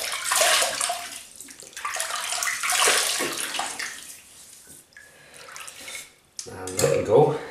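Water splashing from the hands onto the face to rehydrate the skin during a shave, several uneven bursts of close splashing and dripping with short pauses between them.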